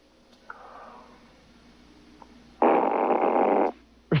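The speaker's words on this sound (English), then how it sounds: "can you grade a fart that I'm doing here?" A fart is made into a phone and heard over the line as a loud, buzzing burst lasting about a second, after a faint softer rumble and quiet background noise.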